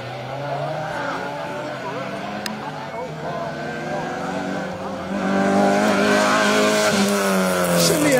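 A 1978 Peugeot 306 rally car races past on a special stage at the Rally Wervik, its engine note rising and holding loud and close for several seconds with tire noise, as a voice talks over it.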